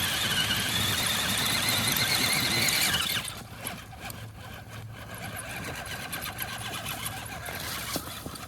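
An electric motor in a Wraith vehicle runs with a loud, high whine that drops abruptly to a lower, rougher steady hum about a third of the way through.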